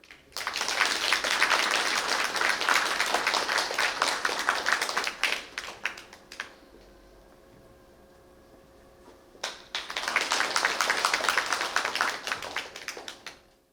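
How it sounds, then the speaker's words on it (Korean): At an academic conference in Korea, the audience gives a hall-filling round of applause to welcome the Chinese ambassador. The clapping stops for a few quiet seconds, then a second burst of applause follows. "큰 박수로 맞아주십시오"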